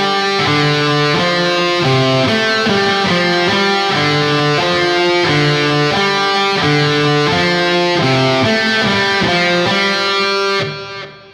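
Electric guitar plays a piano riff in 7/4, a steady, repeating pattern of ringing chords and notes, loud and alone with no talking, fading out at the end.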